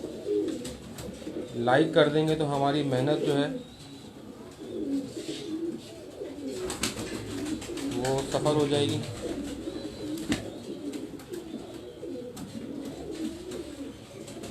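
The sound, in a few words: pigeons cooing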